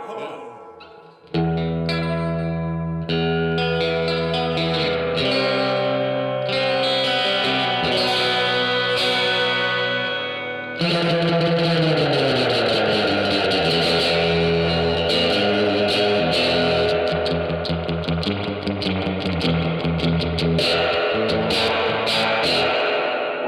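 Electric guitar played through a Carr Trail Rider, a small 5-watt amp with reverb, first in clean chords and then in a denser, driven passage. The guitar is loud and sustained, with a reverb tail ringing after the notes.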